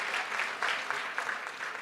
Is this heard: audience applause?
yes